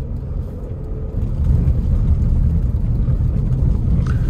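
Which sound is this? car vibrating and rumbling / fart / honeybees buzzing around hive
car vibrating and rumbling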